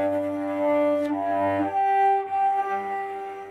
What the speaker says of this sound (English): That is a sound I called ghost cello of too much bow, not enough pressure.